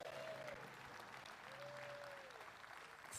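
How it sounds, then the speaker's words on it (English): Crowd clapping at an outdoor ribbon cutting for an aviation technology center expansion, steady moderate applause with a voice speaking faintly over it. "if the crowd could help cheer everybody on"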